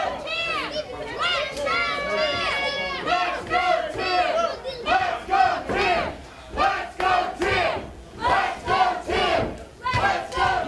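A crowd chants in rhythmic bursts at a competitive event, voices rising and falling in repeated cheering phrases, loud and close throughout.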